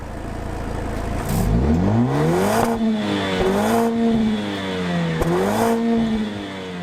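A Mercedes-AMG CLA 45's engine and exhaust rev hard in several rising blips, each climbing and dropping back, loud and close with a raspy roar and no talk.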